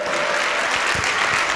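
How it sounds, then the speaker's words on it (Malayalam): Congregation clapping steadily at a Christian healing service, a dense continuous applause filling the whole stretch at even loudness. "കൈയടിച്ചു നന്ദി പറഞ്ഞേ."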